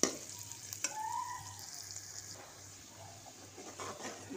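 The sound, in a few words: spiced gravy mixture sautéing in a pan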